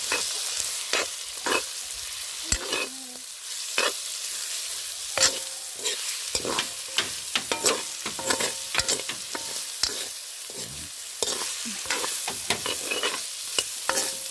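Banana flower frying and being stirred in a pan, with a constant sizzle broken by frequent clacks and scrapes of the spoon against the metal, irregular and close.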